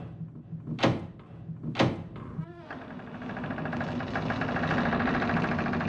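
A door opening sound effect: two sharp knock-like hits and a brief creak, then a rising steady whoosh that swells and holds to the end.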